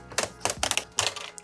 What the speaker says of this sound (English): just popping off this back shell.